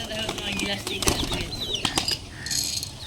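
Giribaz pigeons at a pigeon farm flap their wings in quick bursts while feeding on corn, with soft calls and faint background voices around them.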